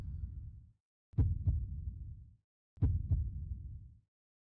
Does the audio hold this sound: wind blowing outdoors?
no